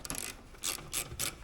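A ratchet wrench loosening an 11/16 nut on a corn planter gives three or four quick, close clicking bursts in rhythm, fairly quiet and with no speech.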